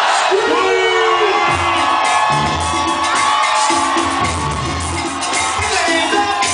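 Nightclub crowd at a live hip-hop concert screaming and cheering continuously, a dense wall of shouts and whoops with a loud voice over a PA calling out above it.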